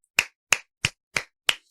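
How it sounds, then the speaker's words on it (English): Five single hand claps spaced evenly about a third of a second apart, sharp and close, with silence between each clap and no talking. "Round of applause."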